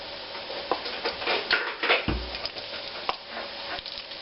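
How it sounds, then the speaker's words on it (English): Flour stirred into hot frying oil in a pan, a soft continuous sizzle with scraping stirring strokes and a brief low knock near the middle, close and fairly quiet. "Got our oil heated up just enough. Let's put in some flour here."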